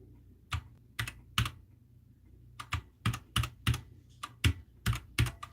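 Bursts of computer keyboard typing, clustered keystrokes in uneven runs with short pauses, close and fairly quiet over a low steady hum, no talking.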